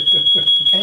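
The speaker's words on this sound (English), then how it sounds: "It's like a smoke alarm." A smoke alarm emits a steady, loud high-pitched beep that runs continuously through the moment while people talk over it.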